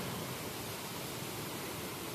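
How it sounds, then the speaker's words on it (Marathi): A waterfall beside a mountain footpath pours in a steady, dense roar that stays loud and even from start to finish, with no voices. "हा आता अजून एक धबधबा."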